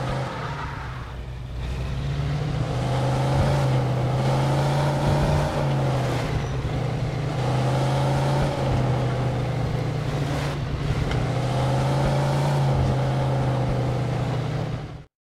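A car idles and revs steadily as it drives through the gate into Mike's junkyard in the Mafia II Definitive Edition video game, its engine loud and close, rising and settling in several throttle swells with no talk.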